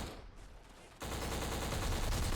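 Gunfire in the Xbox shooter Black during a night-time strike: quiet at first, then a sudden burst of sustained rapid fire that continues unbroken to the end.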